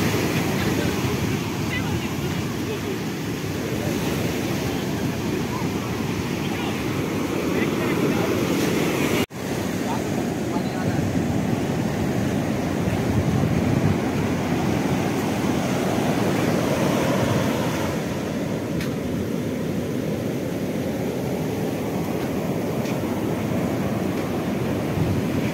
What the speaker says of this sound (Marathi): बघू शकता किती मोठाल्या लाटा आहे